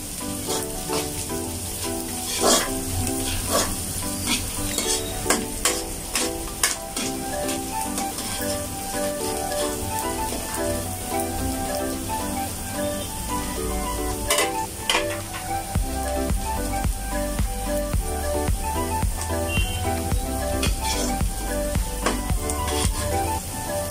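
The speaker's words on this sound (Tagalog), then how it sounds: "Tapos lagay na rin yung bawang" Garlic frying in a pan while beef oyster sauce with string beans and pechay is cooked, a steady, dense sizzle and crackle that runs unbroken throughout, close and loud, with no talking.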